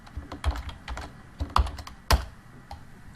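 A computer keyboard is typed on in a short burst while a search query is entered, giving irregular clicky keystrokes up close with a couple of sharper, louder key taps near the end.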